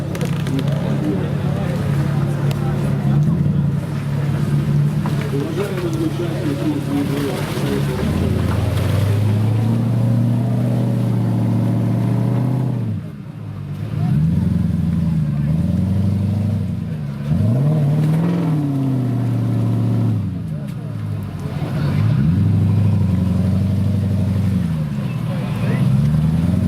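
Off-road vehicle at a Rainforest Challenge Caucasus trophy event near Nalchik, engine droning loud and close while pulled by a winch, rising and falling in repeated revs, with voices talking over it.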